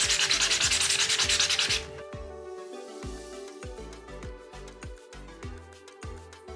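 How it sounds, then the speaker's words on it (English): Sandpaper rubs briskly against the foot of a PLA 3D print, a loud steady scraping at first, then softer repeated strokes, close and with no talking. "all I'm going to do is start sanding this foot"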